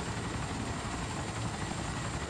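A helicopter in the video game DayZ whirs with a steady, dense rotor drone, loud and close for the whole stretch with no talking over it.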